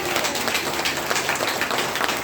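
An audience at a Hindi business seminar claps together in a brief, even burst of applause that lasts a couple of seconds.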